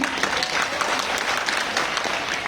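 An audience applauds at a speech marking the birth anniversary of Mata Ramabai Ambedkar, with loud, dense, continuous clapping and faint crowd murmur beneath.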